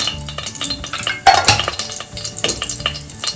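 Fennel seeds and whole spices such as cinnamon bark fry in oil in a pan for a goat gravy, giving a steady close sizzle broken by a few sharp clinks of a utensil against the pan.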